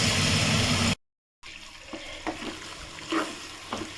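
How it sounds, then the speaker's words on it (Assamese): Jolphai being fried in mustard oil in a wok, a sweet pickle in the making: a steady broadband sizzle, then a brief silent gap, then quieter frying with a few soft scrapes and clinks of stirring close by. "এইখিনি অলপ ভাজি ল'ম।"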